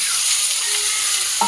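Curry vegetables hit a hot pan with onion and garlic, holding a steady, fairly loud sizzling hiss that ends in a short clink or tonal knock near the end, with no talking.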